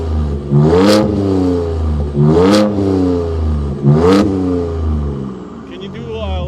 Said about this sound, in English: this is what the Baja mode sounds like.